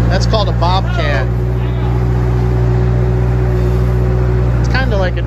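A Bobcat skid-steer loader engine idles loudly in a steady drone throughout, with people talking briefly over it at the start and end.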